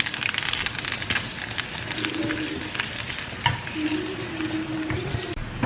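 Dried red chillies and curry leaves crackle in hot tempering oil alongside urad dal and mustard seeds for kara kuzhambu, a loud, dense sizzle with sharp pops and spatters throughout.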